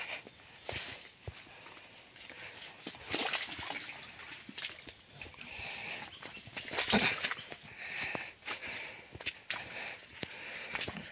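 Someone wades across a river on a forest trail toward sugar palm trees, with irregular sloshing splashes and footsteps in water against a constant high insect drone, the splashes louder midway.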